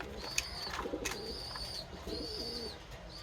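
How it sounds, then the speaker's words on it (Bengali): Large pigeons in a loft, several low throaty coos repeating in short phrases close by, with a few faint chirps and brief sharp clicks or wing sounds in between. "বিগ সাইজের কবুতর।"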